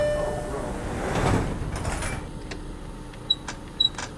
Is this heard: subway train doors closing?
yes